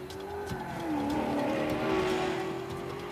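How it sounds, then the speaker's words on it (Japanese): A car engine drones and shifts pitch while tires squeal in the Uncharted 4 action game, loud and continuous for a few seconds with no talking. "いい車の音がしてる"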